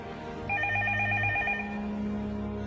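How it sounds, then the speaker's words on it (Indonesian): A telephone rings with a rapid trilling bell burst lasting about a second, clear and fairly loud against a low steady background hum. "Sebuah telepon berbunyi."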